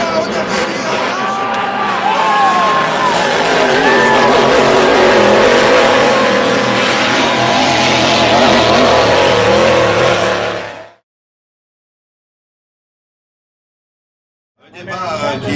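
Race cars speeding on track during the last lap of a 2008 Valleyfield race, a loud continuous engine roar with crowd noise and a commentator talking over it, cutting to silence before the sound returns.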